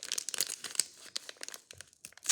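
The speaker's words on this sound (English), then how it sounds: "to tear it open and pour it in" A brown plastic baggie of dirt-pudding mix is torn open by hand, a close run of sharp crinkles and ripping bursts in irregular clusters, fairly quiet with no talking.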